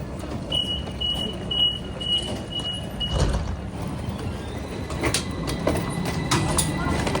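A train in Istanbul rumbles steadily along the rails with faint rhythmic clatter and a brief high squeal early on, heard from inside the carriage.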